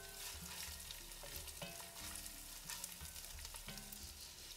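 Ginger garlic paste, two tablespoons ground together, sizzles and fries steadily in hot oil, with a spoon stirring and scraping through it at irregular intervals. No one speaks.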